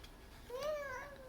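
A young child answers with a soft, rising-and-falling meow, imitating a cat in a single drawn-out voiced call.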